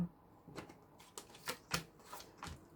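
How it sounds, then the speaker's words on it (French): Tarot cards are drawn and handled in a quiet room, giving several soft, short papery slaps and flicks spaced irregularly over a few seconds, close and faint. "je vais prendre les deux dernières cartes"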